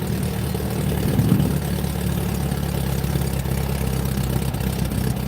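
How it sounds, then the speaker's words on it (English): An engine left parked for ten years runs at a steady, rumbling low idle, close and continuous with a slight bump in loudness early on and no talking. "it starts right up and it'll idle good"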